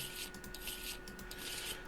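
Playing cards are shuffled during a tabletop role-playing game session, giving a brief, papery riffling and rubbing over a low steady hum, with no voices.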